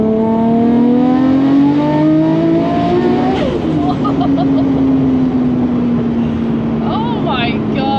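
Porsche 911 Turbo-class sports car engine revving hard, a loud rising then falling roar with gear-change shifts, close by and continuous, with a voice talking over it.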